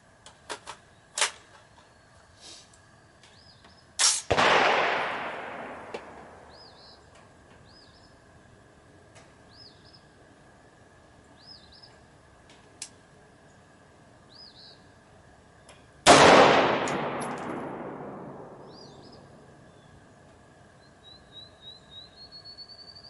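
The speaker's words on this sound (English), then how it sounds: "A couple AR rounds first." AR rifle firing at targets 25 yards away: two loud, sharp gunshots about twelve seconds apart, each trailing into a long ringing echo, with faint chirps and small clicks in between.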